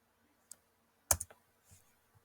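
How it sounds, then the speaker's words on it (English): A few scattered keystrokes on a computer keyboard, close and quiet, with a sharp cluster of clicks in the middle and sparse taps around it. "let's just type in WSU campus and see what it pulls up"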